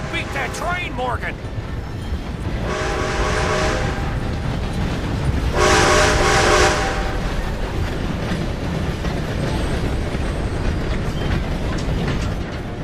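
A train rushes past in the video game Red Dead Redemption 2, a loud continuous rumble with rolling clatter, swelling in two bursts, mixed with game sounds and people talking.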